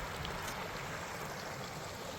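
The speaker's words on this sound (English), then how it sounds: "Look at that kind of waterfall going on" Small waterfall pouring over rocks beside a pool on a long-distance trail, a steady broadband rush of flowing water that stays close and fairly loud, with no voices over it.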